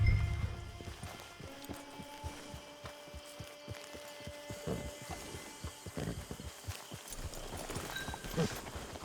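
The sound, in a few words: horse hooves galloping in a video game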